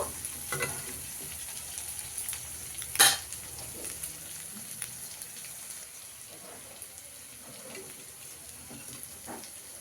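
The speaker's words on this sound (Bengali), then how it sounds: "এইভাবেই কিন্তু আমি উল্টে পাল্টে 3-4 বার করে উল্টে পাল্টে সব কটা বড়াকে ভেজে নেব" Fritters made with fish oil fry in a pan with a steady, moderate sizzle. A sharp clatter comes near the three-second mark, and softer utensil scrapes and stirring follow. Nobody talks.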